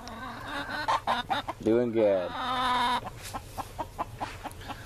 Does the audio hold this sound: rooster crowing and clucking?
yes